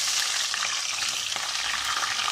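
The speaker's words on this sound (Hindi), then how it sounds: "प्याज को हम फ्राई करेंगे, ब्राउन कलर तक हमने फ्राई करना है।" Onions frying in hot oil for chicken korma, a dense steady sizzle filling the short stretch, close and continuous with no voices.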